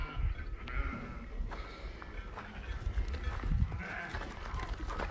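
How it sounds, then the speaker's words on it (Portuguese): Sheep coming back from the field on a farm make a steady, close jumble of shuffling hooves, rustling and scattered bleats that runs without a break. "As ovelhinhas chegando da roça, tudo com a barriguinha cheia."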